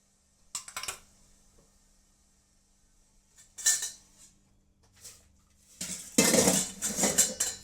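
Dishes and cutlery clatter into a wash basin in a few separate bursts, with the loudest clinking jumble at the end and quiet pauses in between.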